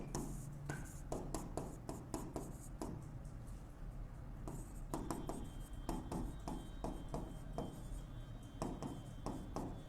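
A pen writes on paper in a financial accounting lesson, scratching close by in short repeated strokes that rise and fall, with small pauses between words.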